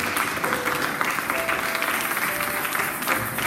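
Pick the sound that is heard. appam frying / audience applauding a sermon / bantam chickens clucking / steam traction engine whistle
audience applauding a sermon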